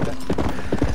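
Horse hooves clip-clop in Red Dead Redemption as a horse travels through the game's Mexico region, a steady rhythmic run of hoof strikes heard close and clear with no talking.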